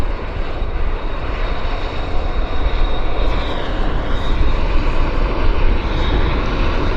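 A plane landing at Vancouver Airport makes a steady, loud, broadband engine roar that holds throughout with little change, heard alone without talk.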